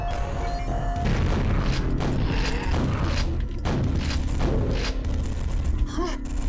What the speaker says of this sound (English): This guy's shooting fireballs at me or something.